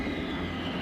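A small VTOL aircraft launches in an Ultraman live-action series, giving off a steady, fairly loud engine roar that holds level through a brief moment.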